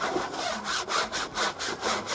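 Window solar screen being scrubbed by hand with a scrubbing pad, rhythmic back-and-forth rasping strokes, about eight in quick succession, close and fairly loud with no talking.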